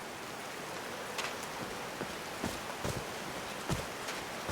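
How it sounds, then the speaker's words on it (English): Rain falls in the video game Call of the Sea, a faint steady patter with scattered sharper drops landing at irregular moments over a soft hiss. "These drops of rain are so refreshing."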